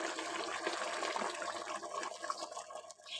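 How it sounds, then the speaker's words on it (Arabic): Hot water poured into a cooking pot while making Moroccan badaz, a steady close rushing splash that runs for several seconds without a break. "هنا راه عندي الماء طيب، غادي نروي به"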